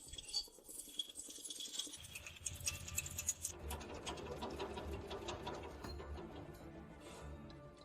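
Ship machinery with gears and a cylinder running rough, a busy clicking and ratcheting mechanical clatter that starts sparse then builds into a dense, rapid rhythmic churn, fairly quiet and heard alone.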